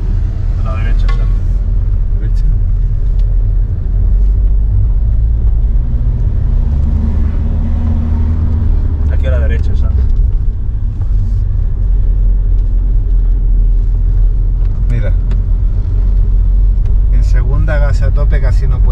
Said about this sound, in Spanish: A tope casi no puede subir hasta que no entra el turbo.